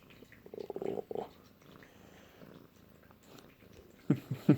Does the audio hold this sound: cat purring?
yes